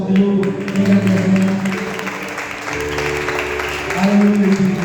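Worship congregation clapping in praise during a Pentecostal church service, steady rhythmic claps mixed with strong sustained tones from music or singing throughout, fairly loud and continuous.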